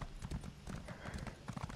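Rapid, even clip-clop of horse hooves trotting in the video game The Elder Scrolls Online: Morrowind, quiet and rhythmic, in a brief continuous run.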